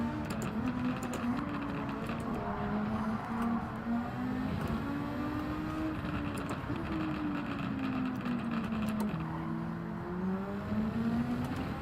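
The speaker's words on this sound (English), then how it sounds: "I think I can hear the car behind me struggling a bit" A race car in the Gran Turismo 7 video game drones steadily throughout. The engine whine rises and falls gently as speed shifts, with no talk over it.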